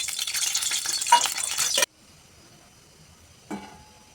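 Mushrooms fry in hot oil with a dense, crackling sizzle for under two seconds, which cuts off abruptly into near quiet before a brief clatter near the end.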